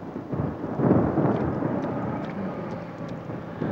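A steady wash of heavy rain with a deep, rolling rumble of thunder swelling early and then settling into continuous downpour.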